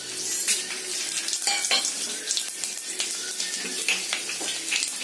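Fenugreek seeds and cumin sputter and crackle in hot sesame oil while tempering a kuzhambu, a steady close sizzle with scattered sharp pops throughout.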